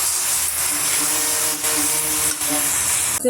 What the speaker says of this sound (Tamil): இந்த ஸ்டேஜில் நம்ம கொத்தமல்லியிலையும் வல்லாரைக்கீரையும் நம்ம சேர்த்துக்கலாங்க. சேர்த்துட்டு நல்லா வந்து வதக்கி விட்டுடலாம்.